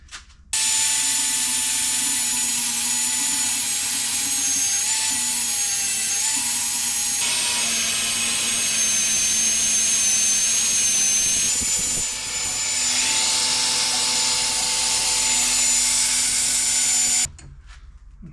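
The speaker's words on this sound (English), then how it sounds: "So I'll go and grind it down and try and make it look pretty." An angle grinder grinds down a fresh weld on a broken-down vehicle repair, running loud and steady for about seventeen seconds with a constant high whine and slight pitch dips as it bites the metal, no talking.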